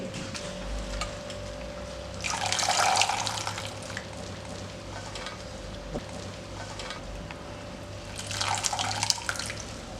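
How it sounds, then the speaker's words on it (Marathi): Bharangi forest-vegetable flowers washed in a vessel of water and lifted out, producing two bursts of splashing and pouring with trickles and drips between them over a low steady background hum. "आता मी पुन्हा पाण्यात घातली आहेत आणि याचा रंग उतरायला लागलाय पाण्यात त्यामुळे ही पाण्यातून मी बाहेर काढून घेते"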